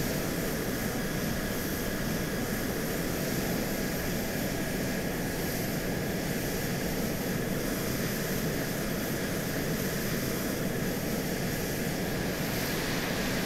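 An AV-8 Harrier jet in straight, level flight in the video game ARMA II gives a steady, loud, unbroken engine roar with a whining edge throughout.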